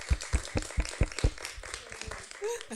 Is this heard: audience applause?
yes